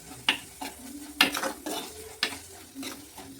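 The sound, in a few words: stirring prawns into curry in a pan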